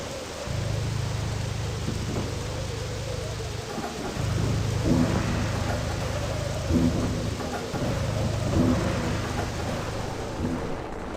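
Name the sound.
thunderstorm with rain in Freedom Fighters video game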